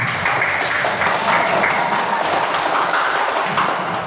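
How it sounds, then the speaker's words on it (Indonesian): Children in a classroom applaud together, a dense, steady patter of clapping hands that fills the room at close range for a few seconds, with no talk over it. "bagus sekali tepuk tangan"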